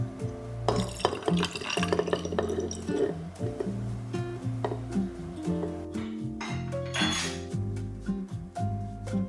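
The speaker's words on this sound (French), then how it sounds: "Maintenant, il manque plus que le matcha. Donc on va le verser et on va pouvoir goûter ça." Matcha poured into a glass of homemade drink, bright liquid trickling and clinking against glass over a steady background of music, close and fairly loud, no talking.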